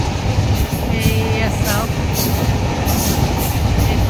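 A moving passenger train rumbles loudly and continuously from inside the carriage, with rhythmic rolling and clatter, while a person speaks briefly over the noise.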